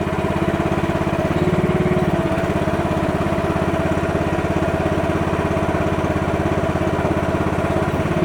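Hanix MH12RX mini excavator engine running while the machine drives, a steady loud chugging drone close by without a break, and no voices over it.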